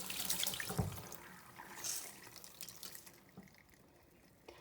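Water runs hard from a tap into a sink while a makeup sponge is cleaned with micellar water, with a splashing stream and small drips that fade toward the end, no talking.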